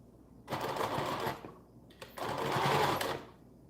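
Sewing machine running in two loud, close bursts of rapid stitching, about one second and then a second and a half long, separated by a short pause with a few clicks.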